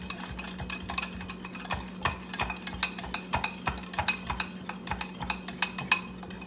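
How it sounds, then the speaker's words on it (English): A spoon stirring light brown sugar into melted butter in a bowl, steady rhythmic clinks and scrapes against the dish, close and alone. "place your light brown sugar in with your melted butter and begin to stir"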